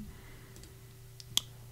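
A computer mouse clicks while editing in CapCut on a PC: a few faint soft clicks and then one sharper distinct click, over a low steady hum with no talking.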